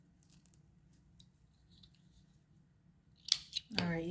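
Scissors snip paper while cutting out a lace flower: a few quiet, crisp cuts close by near the end, after which a voice starts talking.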